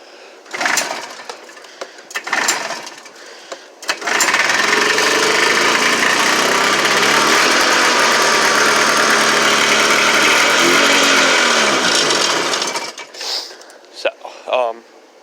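A 1979 Arctic Cat Jag 3000 snowmobile with a broken choke sputters between pull attempts, then catches and runs loud and close for about nine seconds before dying back to sputters.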